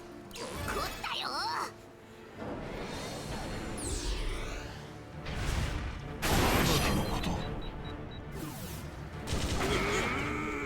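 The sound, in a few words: fireworks skill attack in the video game Fuga: Melodies of Steel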